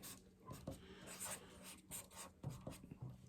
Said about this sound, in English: So I've got to put some shading down here.